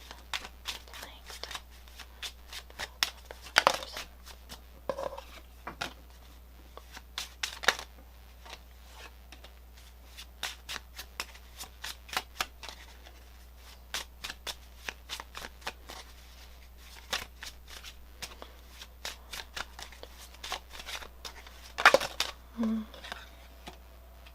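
Lenormand cards shuffled by hand in quiet, repeated papery riffles and taps that come and go over a low steady hum, close and soft.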